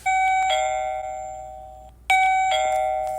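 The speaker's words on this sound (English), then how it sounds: "if somebody walks up and presses the doorbell" A cheap wireless doorbell camera chime rings loudly twice, each a bright multi-tone melody that decays, separated by a brief pause, alone with no talking.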